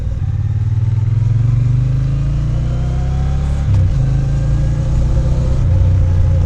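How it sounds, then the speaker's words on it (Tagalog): A Triumph Bonneville T120 1200cc motorcycle engine runs loud and close, a deep throbbing rumble rising in pitch as it revs and accelerates, briefly dipping before climbing again. "Tapos sobrang smooth ng engine niya."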